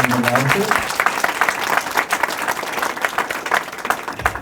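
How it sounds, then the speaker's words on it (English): An indoor crowd at a city government press event applauds the mayor and his leadership team, steady dense clapping close and loud throughout, with a brief voice at the start. "please give a round of applause to the mayor and his leadership team, and also Councilman Rogers."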